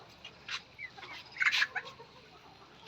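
Caged layer hens on a farm cluck in short, scattered calls. A louder cluster of clucks comes in the middle over a quiet background.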